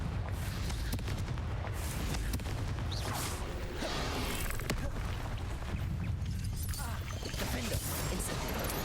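A Confringo fire spell blast in the Hogwarts Legacy video game, set in dense, loud, continuous combat noise with whooshes and booming impacts.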